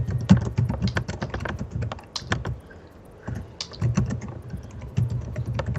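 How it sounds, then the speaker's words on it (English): Someone pounds hard on a computer keyboard, rapid forceful clacking keystrokes in bursts with a brief lull in the middle, close and loud. "is pounding that keyboard"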